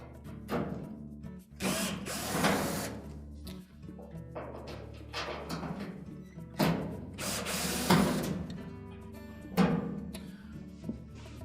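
Screws are driven out of the panel of a Whirlpool dryer during a heater wire repair, heard as repeated bursts of a whirring power driver with metallic rattles and clunks in between, close and fairly loud.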